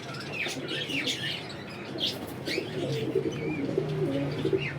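Pigeons in a loft coo in low, soft rolling phrases while higher chirps and bird calls flicker over a steady background murmur.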